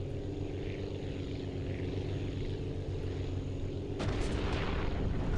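A small propeller airplane strains to take off, its engine droning steadily and loud, with a rougher surge partway through.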